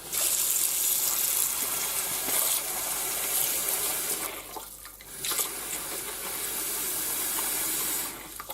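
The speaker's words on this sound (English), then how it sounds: "We also need to get some cold water." A kitchen tap runs cold water steadily over chicken in a bowl or sink, a loud continuous gushing and splashing stream that holds for several seconds, dips briefly and then resumes.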